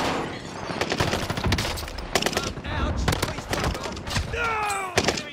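Rapid overlapping bursts of automatic gunfire, including an STG 44, in the Call of Duty Vanguard Warzone video game, loud and sustained with brief gaps, with players talking over it.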